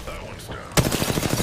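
Rapid automatic gunfire in Apex Legends breaks out suddenly partway through, a fast string of loud, close shots that follows a stretch of quieter game sound under speech.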